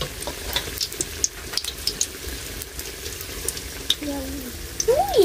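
Bananas frying in a pan for coconut grilled sticky-rice bananas crackle with a steady, close sizzle, with scattered clicks and stirring sounds and a short whistling tone near the end.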